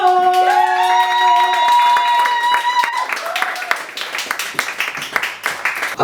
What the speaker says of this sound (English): I'd like you all to give a big round of applause with lots of love to Debbie Gore.